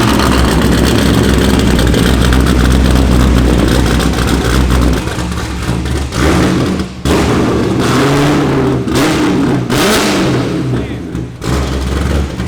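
Stage 4 Corvette Z06 with straight pipe exhaust, a loud deep engine rumble with repeated revs and short drops, voices talking over parts of it.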